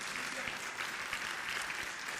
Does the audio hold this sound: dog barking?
no